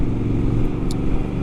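A Triumph Scrambler 1200 XE, a parallel-twin motorcycle with a 270-degree crank, runs with a steady low thumping drone throughout, close and continuous, with no talk over it.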